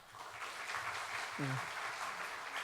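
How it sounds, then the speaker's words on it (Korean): A church congregation at Sunday worship claps steadily for a deacon who has recovered her health, moderately loud applause with a brief voice rising in the middle. "우리 집사님에게 격려의 박수하겠습니다"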